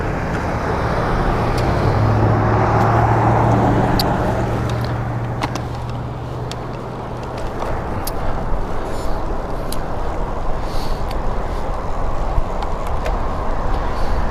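A car passes a cyclist on a road shoulder, its broad engine and tyre rumble swelling close then fading, with steady wind noise and road hiss continuing underneath.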